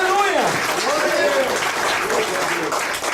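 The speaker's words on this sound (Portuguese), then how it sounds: "Vamos aplaudir o nome de Jesus." A church congregation applauds together during a service, a steady wash of clapping with voices calling out over it throughout.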